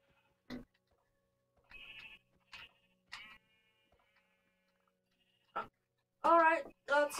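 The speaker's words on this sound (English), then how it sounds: "There's a lot of sheep." Sheep in Minecraft Xbox One Edition give several short, separate bleats, faint to moderate, spaced out over a quiet background.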